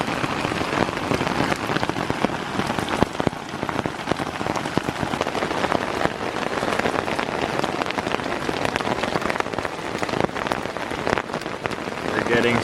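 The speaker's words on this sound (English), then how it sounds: "We're getting some rain." Steady, heavy rain pattering on a surface, a dense continuous hiss with scattered drips throughout, no voices.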